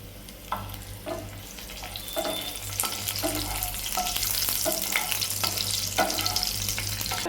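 Garlic and four curry leaves frying in a pan for a shimla mirchi dish give a steady, close sizzle, with stirring scrapes and bursts of crackle throughout.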